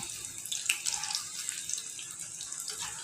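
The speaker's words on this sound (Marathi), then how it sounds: "यात तेल तापलेलं आहे यात चपाती टाकून घेऊया व्यवस्थित तळून घेऊया" A chapati sizzles as it fries in hot oil in a small kadhai, a steady bright hiss with faint crackles, close and continuous.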